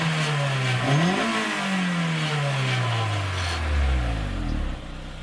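A Honda S2000 on its stock exhaust is revved hard, the engine note climbing steeply to around 6,000–7,000 rpm, then falling back in a long, smooth descent toward idle, loud and close.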